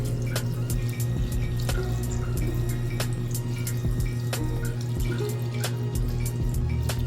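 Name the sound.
filtered water poured into a bowl of sea moss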